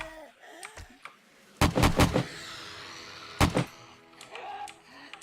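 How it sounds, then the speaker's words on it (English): Hip-fired gunshots in the 7 Days to Die Alpha 17 video game: two bursts of sharp, loud shots, the first a quick cluster of three or four, the second a shorter pair, over quiet game ambience. "Getting too close, I'm just going to hip fire."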